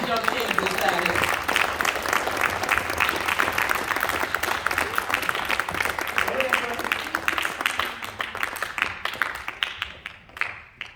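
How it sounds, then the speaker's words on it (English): Audience at a youth mentoring and empowerment event applauds young men, a dense steady wave of many hands clapping that continues for several seconds before thinning out near the end. "Y'all clap it up for these young kings inside here."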